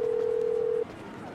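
A steady electronic phone ring tone in Grand Theft Auto 5 sounds for under a second, loud and alone, before cutting off to faint background hum.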